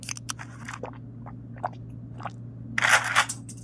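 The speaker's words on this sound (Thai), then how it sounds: "กินก่อนเลย" Chewing and crunching eating sound effect from the Roblox game Buckshot Roulette, made up of several short crisp bites and then a louder crunchy burst near the end over a low steady hum.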